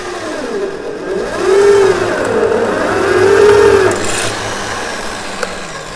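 Parkside PTBMOD 710 A1 electronic bench drill press running, its motor note rising and falling steadily under load as it drills holes, close and fairly loud with no voices.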